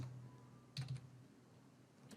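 Keystrokes on a computer keyboard while card payment details are entered, a short burst of a few quick taps mid-clip and another tap near the end, faint and close against a quiet room hum.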